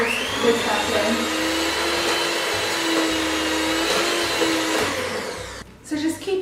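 An electric mixer whirs steadily as flour is whizzed into cookie dough for white and milk chocolate cookies, a continuous close motor drone that cuts off near the end, with a brief voice after.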